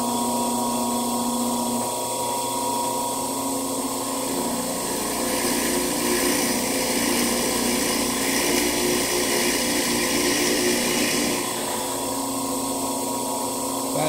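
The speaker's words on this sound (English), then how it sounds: "So I've got it on the Felder FD250, 1500 RPM with a brad point bit in the chuck." Felder FD250 boring machine running at 1500 RPM with a brad point bit drilling 3/8-inch dowel holes in a red oak table top, a steady close motor whine with a rising, rougher cutting tone midway as the bit bites.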